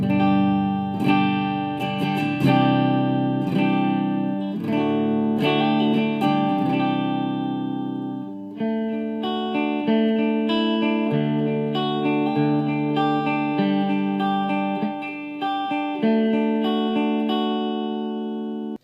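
An electric guitar plays with a dry, clean tone and no effects or reverb. Close, bright plucked notes and chords ring out steadily throughout, their attacks sharp and their decays natural.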